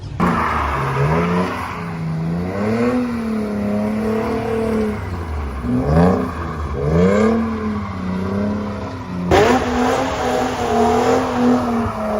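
Small high-pitched electric motors whine and rise and fall in pitch as RC cars rev and drift around a racetrack, with a sharp surge near the end.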